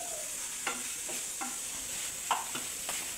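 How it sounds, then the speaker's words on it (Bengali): Eggplant pieces frying in a little oil in a home kitchen, a soft steady sizzle with a few light stirring scrapes and clicks scattered through, fairly quiet and close. "এখানে মা সবজিটা করবে, সবজি দিয়ে মাছ হবে যেটা, তার জন্য বেগুনটা ভাজা হচ্ছে"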